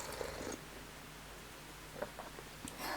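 A house cat purrs faintly in a low rumble, set under a soft hiss and occasional light rustles and taps.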